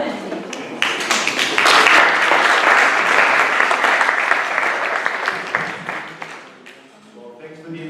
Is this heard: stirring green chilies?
no